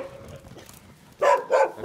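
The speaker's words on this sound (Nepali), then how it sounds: "कुकुरहरू कुकुरहरू छुट्टी खेलिरहेछन्" Dogs on the Annapurna Circuit trail in Nepal give two sharp, fairly close barks in quick succession after a quiet stretch of faint ambient noise.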